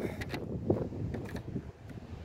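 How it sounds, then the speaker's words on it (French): Steady wind buffeting a microphone outdoors during a foam dart blaster test, a continuous low rumble with gusty swells running through the whole stretch. "Alors désolé, il y a du vent."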